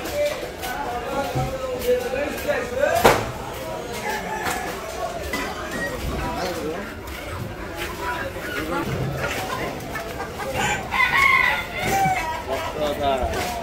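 A hen clucks and a rooster crows at a chicken shop in a Bangladeshi village market, amid busy chatter, with people talking close by over a murmuring crowd.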